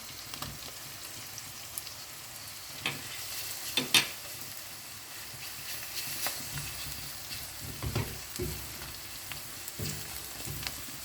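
Crushed ginger and garlic sautéing in a pan for gongura chicken, a soft steady sizzle with occasional scrapes and clinks of a stirring spoon, close and moderately quiet, no voices.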